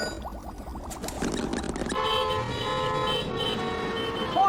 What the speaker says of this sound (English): Horns make a pattern of sounds that we use to alert other drivers.